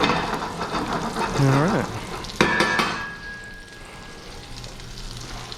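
Schnitzel sizzles and fries steadily in a pan, with a brief stir or utensil clatter and a short spoken word over the crackle before the frying settles lower.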